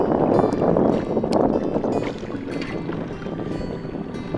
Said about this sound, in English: We took the dinghy out across the bay, and Camille and Anders took the paddle boar